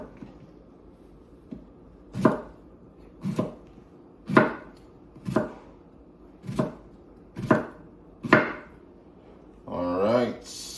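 A knife chopping eggplant on a cutting board for a creamy vegetable orzo, seven crisp, fairly evenly spaced chops close by, with a brief scraping rustle at the end and no talk.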